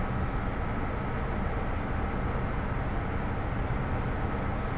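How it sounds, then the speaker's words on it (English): An HST diesel train in the Train Simulator 2021 game gives off a steady, dense engine rumble and rolling roar, constant and loud throughout with no break. "You know, I like the noise of a diesel"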